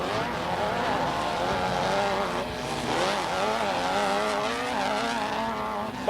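Off-road three-wheelers, quads, motorcycles and mini stocks at a 1987 dirt raceway, engines revving and shifting pitch through a hairpin turn, a steady loud drone of several machines racing close together.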